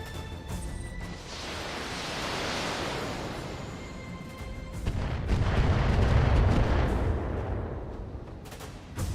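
Light autocannons fire in the BattleTech video game, a dense rumbling barrage of booms rolling on for several seconds, swelling louder midway and ending with a sharp crack.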